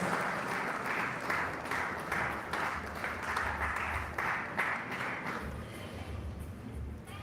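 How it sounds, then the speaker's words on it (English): Indoor audience at a tourism stakeholders ceremony in Goa breaks into steady, sustained applause, a dense wash of clapping that holds level for several seconds and eases slightly at the end. "Let's have a round of applause"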